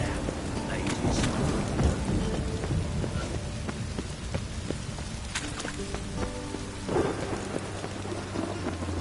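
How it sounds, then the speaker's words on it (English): Steady heavy rain hisses throughout while rumbles and cracks of thunder break in now and then, loud and close, in the video game The Witcher 3. "Rain again."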